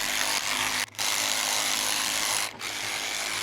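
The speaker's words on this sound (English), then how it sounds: "I'll try the Sawzall." A Sawzall reciprocating saw cuts steadily at an off-grid Arizona solar carport build, a loud, continuous rasping buzz broken by two brief pauses.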